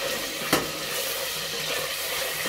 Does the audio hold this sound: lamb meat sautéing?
yes